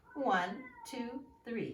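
A pet cat meows indoors while a woman counts aloud; the harmonic meow is tangled with her voice, audible across the short stretch.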